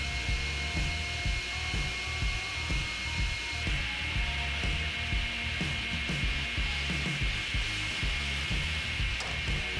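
A Northtech NT SLR-16SC 16-inch straight line rip saw with a 1.5 horsepower feed motor runs continuously, a loud steady machine roar with a constant whine and rhythmic mechanical clatter throughout, no voices.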